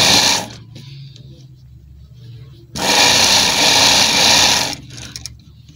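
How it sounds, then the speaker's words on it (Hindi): A sewing machine stitches along the edge of a gents kurta side pocket in two loud, fast runs, a short burst and then a longer one, with pauses where someone speaks. "तो मैं इसके ऊपर सिलाई लगाऊंगा बिल्कुल किनारे पे।"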